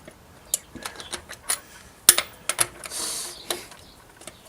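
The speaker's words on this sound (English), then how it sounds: "Always torque your lug nuts" Lug nuts on a GMC Envoy-type SUV being tightened with a torque wrench, giving a series of sharp metallic clicks and ratcheting ticks at uneven intervals, close and moderately loud, with a short grinding stretch near the end.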